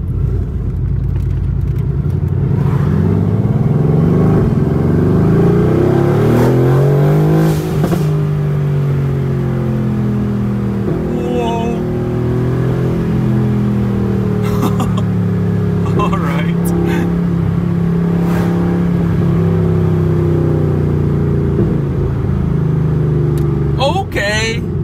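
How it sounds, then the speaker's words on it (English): A Mercedes-AMG GT R engine of over 800 hp rumbles and revs up and down with exhaust valves open, a throaty note heard from inside the car, while people talk over it. "I love that you can hear the valves open."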